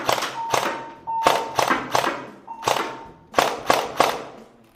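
A Specna Arms G36 SA-G11V airsoft rifle fires about nine sharp, loud shots in an irregular rhythm, close up, some in quick pairs and some spaced apart, with a faint electronic tone between shots.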